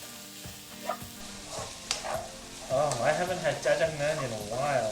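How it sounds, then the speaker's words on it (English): Mushrooms stir-fry on high heat in a hot pan for vegan black bean noodles: a hissing sizzle with scattered stirring knocks, then a person talks over the cooking. "So on high, we're gonna stir fry this. Make sure the pan is nice and hot."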